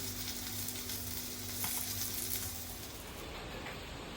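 Rawa-coated mandeli fish frying in a pan give off a steady, even sizzle that carries on throughout at low to moderate level with no talking.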